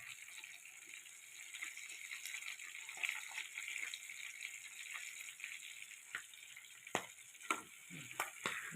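Quail frying in a covered pan gives a steady sizzling hiss, with louder clatter and bursts of spattering near the end as the lid is lifted; no voices.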